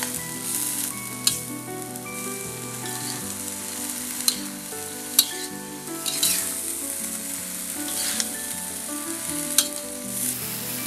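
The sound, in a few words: vegetables stir-frying in pan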